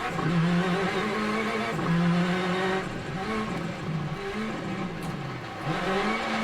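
Rally car engine in the video game Assetto Corsa Rally revs hard and steadily, pitch rising and falling through gear changes and throttle lifts, loud and continuous with no talk.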